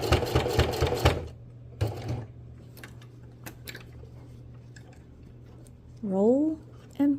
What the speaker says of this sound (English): I'm going to roll and fold just like we did before, and then I'm going to come stitch down.